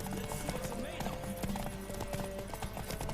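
Horse hooves clip-clopping at a steady galloping rhythm in The Witcher 3 on PS5, with occasional whinnies and game sounds layered over the beat.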